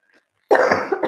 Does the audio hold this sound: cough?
yes